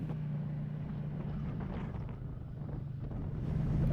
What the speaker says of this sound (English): And it was windy.